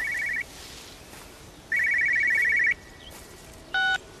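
An old-style telephone rings in the video game Everybody's Gone To The Rapture, sounding as two electronic trilling rings over quiet ambience, followed by a short tone, with no speech.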